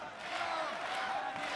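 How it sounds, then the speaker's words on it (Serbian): A crowd at an SBC 25 kickboxing fight cheers and roars for the home fighter, Kovač, in a steady, dense wash of voices with some shouts rising above it. "publika pozdravlja domaćeg borca"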